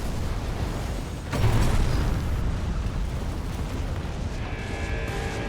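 Missile explosions in the mech combat game Armored Core VI make a dense, roaring rumble that swells into a heavy boom partway through, then settles into a sustained loud wash of blast noise and mechanical hum.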